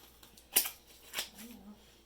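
Ordinary scissors cut through a wax-filled cardboard egg carton, giving two sharp, crisp snips about half a second apart, close and fairly quiet, with faint voice traces.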